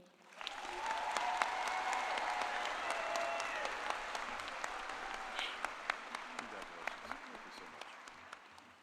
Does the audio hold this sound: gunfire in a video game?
no